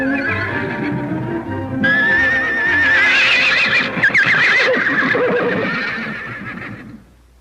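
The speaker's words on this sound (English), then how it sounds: "Them horses is plumb spoiled, ma'am. They're always wanting attention." Several horses neigh and whinny loudly, overlapping calls with trembling, wavering pitch, close by, with faint hoof sounds underneath.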